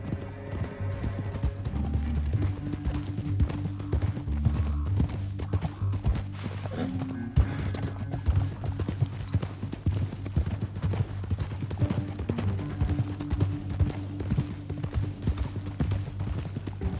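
Steady clip-clop of horse hooves throughout, joined by an occasional whinny, with a low rumbling background and no talk.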